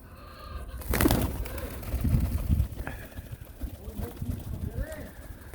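Pigeons cooing and feeding while snow falls, with soft close coos and light pecking and shuffling over a low background hum.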